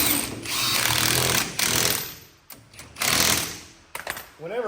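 An impact tool rattles and buzzes in several short bursts while lug nuts are run onto a wheel adapter for a dually truck, with pauses between bursts, loud and close.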